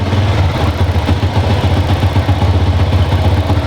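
A Honda Supra motorcycle engine idles steadily while warming up, a close, loud, even low putter with a fast regular pulse and slight mechanical clatter and no variation in speed.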